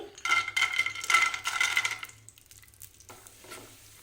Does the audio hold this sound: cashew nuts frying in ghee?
yes